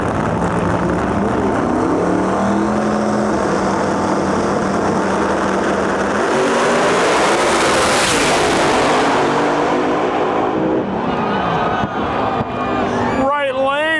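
Pro 275 drag race cars launch in the semifinals of a Lights Out event, a loud sustained engine roar that rises and sweeps past, with an announcer talking over it throughout and a crowd-like wash at the end.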